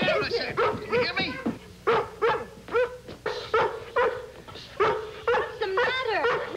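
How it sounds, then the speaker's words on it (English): A dog in a 1954 television drama barks repeatedly in a quick series of sharp, close, loud barks and yips, with a short pause partway through. "I told Lassie to bark every time Gramps sits up"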